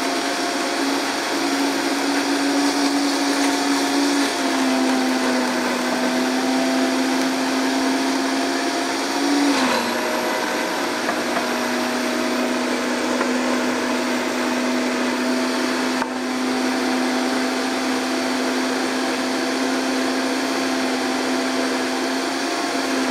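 A blender runs steadily for over twenty seconds, blending a healthy dragon bowl until smooth, with a loud, constant motor whine and a brief pitch dip partway through as the contents shift.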